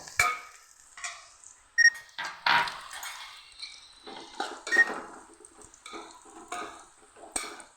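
A metal spoon scrapes and clanks in a pot while jackfruit biryani is stirred with garam masala, giving irregular close scraping strokes and light knocks with quiet pauses between them.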